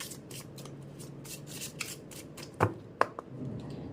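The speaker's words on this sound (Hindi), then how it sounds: "चलिए एक ही शफल में ये करूँगी" Tarot cards being shuffled by hand, a soft continuous riffling and rubbing with a few sharper snaps and taps near the end, close and quiet.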